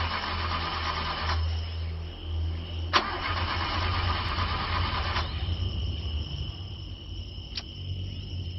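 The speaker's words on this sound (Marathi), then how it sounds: "अरे यार, गाडी पण स्टार्ट होत नाहीये." A car engine cranking at night but failing to start, a repetitive rough grinding turnover that persists without catching, with a few sharp clicks.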